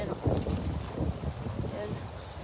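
Strong gusting wind roars across an open yard ahead of an approaching typhoon, a broad steady rush with heavier buffets, while someone talks over it.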